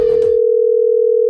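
A steady, unbroken telephone dial tone sounds while a phone call is being placed. It follows a brief burst of noise and continues alone and clearly to the end.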